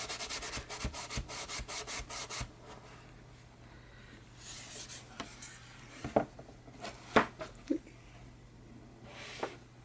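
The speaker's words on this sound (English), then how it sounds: "This is going to sit right on the bottom, and you're going to just give this a good rub" A paper piece for a junk journal storage project is rubbed firmly by hand to stick it down, with quick, rhythmic scrubbing strokes at first, then scattered taps and brushes close by.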